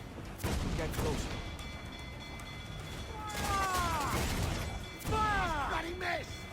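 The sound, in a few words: ship cannon broadside fire in video game Assassin's Creed 4: Black Flag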